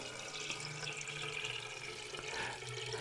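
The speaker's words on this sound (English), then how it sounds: "So we can add some water." Water poured into a narrow flower vase for a Christmas arrangement, a steady gurgling trickle with a low filling tone, close and continuous with no talking.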